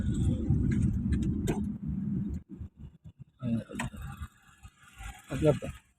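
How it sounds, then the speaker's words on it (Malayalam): A car's turn indicator ticks in a quick, steady rhythm after the car's road noise drops away as a learner driver pulls over to the roadside, with faint voices in the cabin. "ഇൻഡിക്കേറ്റർ ഇട്ടു"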